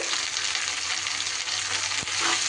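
Spring onion, eggplant and tomato sautéing together in a pan, a dense close sizzle with a brief stirring clatter partway through, no voices.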